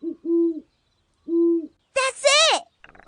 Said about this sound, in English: Try the great horned owl.